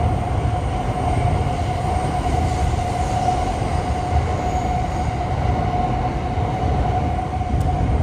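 Shinkansen bullet train rumbling past overhead on elevated tracks near Tokyo Station, a loud steady roar of rolling wheels and rail noise with a sustained tonal whine, heard from street level below.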